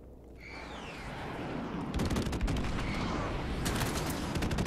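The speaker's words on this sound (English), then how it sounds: "Friendly airstrike." Friendly airstrike in a first-person shooter video game lands as a dense rumbling barrage of rapid explosions and crackling gunfire, swelling loud and continuous after a whistling approach.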